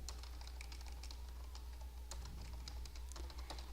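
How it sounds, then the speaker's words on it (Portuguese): Computer keyboard keys clatter in quick, irregular taps while someone types in a word processor, ending with a Ctrl+Enter press; close and crisp over a steady low hum, no voices. "Eu vou dar um Ctrl Enter ó, no final para poder abrir uma lista"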